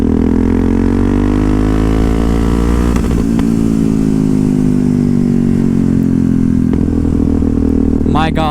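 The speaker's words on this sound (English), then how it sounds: "Oh, it hurts, man, these backfires" Yamaha MT-03 motorcycle with a 660 supermoto single-cylinder engine revving hard and pulling through the rev range, loud and close, with sharp crackling pops near the end of the clip.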